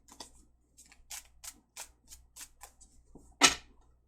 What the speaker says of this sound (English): I prefer to shuffle until a card drops or flips, or protrudes